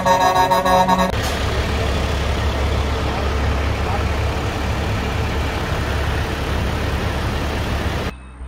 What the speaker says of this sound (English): for a final goodbye to Austin Gayne following a tow truck tribute that could be heard and seen miles away.